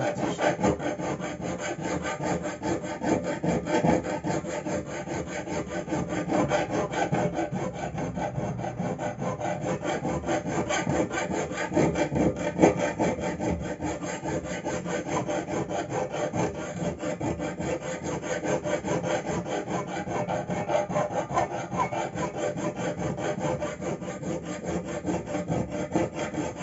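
A flat hand file rasps steadily across a lawnmower blade to rough down the cutting edge, a close, continuous scraping rhythm of quick repeated strokes with no speech.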